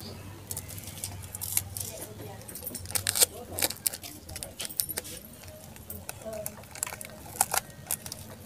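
Clear plastic tape being pulled and pressed onto a plastic cover over a seed tray, heard as irregular crackles, rustles and sticky rips, close and fairly loud, under speech.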